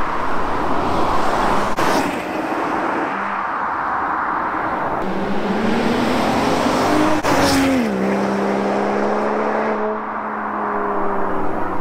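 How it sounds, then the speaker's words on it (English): A Volvo V60 with an SPB exhaust drives past with engine noise rising and falling, a clear pass-by swell and rev changes, fairly loud and close, with no voices. "I'll put some clips here of me driving by with it closed and open, so you kind of get a sense of how loud the car is."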